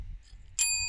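A bicycle bell rings once, bright and close, with a clear ringing tone that sustains and slowly fades after a quiet stretch of low rumble.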